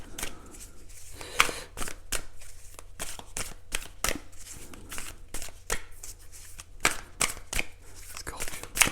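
Thick tarot cards being shuffled by hand in repeated sharp bursts of flicking and slapping, close and irregular in rhythm, with a voice talking quietly between the shuffles.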